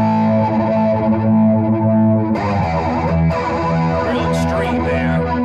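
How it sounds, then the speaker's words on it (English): A Roland Cube 80XL guitar amplifier on its distortion setting plays sustained, heavily distorted guitar chords, loud and up front with no talk over them. "I'll go over to my distortion."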